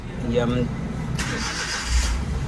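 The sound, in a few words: Suzuki Every van engine starting after overhaul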